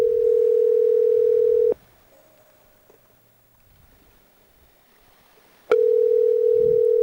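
A steady telephone dial tone hums on a phone line, loud and continuous, cuts off for a few seconds of near silence, then returns just as loud and unbroken.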